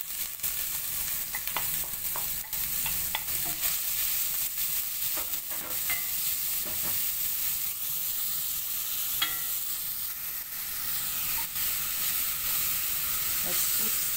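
Chopped onion sizzles steadily in a hot pan during lasagna preparation, a continuous close hiss broken by occasional scraping clicks from stirring, with no voices.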